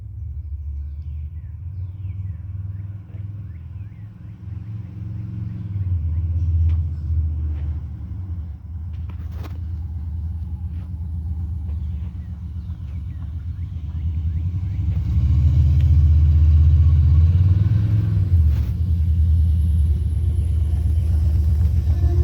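A 1995 GMC pickup truck with a freshly swapped transmission rumbles with a steady, deep engine drone that swells louder as it draws nearer, with faint clicks and outdoor noise in the background and no talking.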